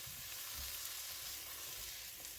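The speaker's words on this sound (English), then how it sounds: "Just keep giving this a nice stir now." Foraged wild mushrooms seasoned with pepper frying in a pan, a soft continuous sizzle with faint scraping as they are stirred, quiet and steady with no voices.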